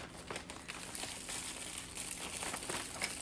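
Close, continuous crinkling of thin plastic candy cane wrappers being handled and pulled open, with faint snipping-like rustles throughout.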